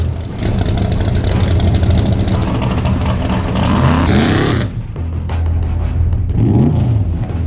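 A drag race car at an out-of-town street race roars loudly through a dry hop burnout, its engine holding a steady high rev before dipping briefly and surging again.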